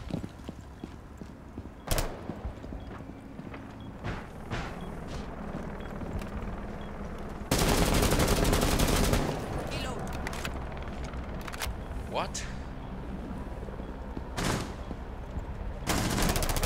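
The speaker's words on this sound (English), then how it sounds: "We're both shooting at him and he hasn't died." Gunfire in the Rainbow Six Siege multiplayer video game comes as repeated sharp shots with a sustained burst of rapid fire midway, over a busy game background.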